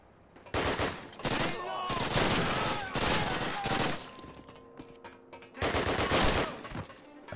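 Gunfire in the original Call of Duty video game, loud rapid automatic bursts with clattering impacts in several long sustained volleys separated by short gaps, close and dense.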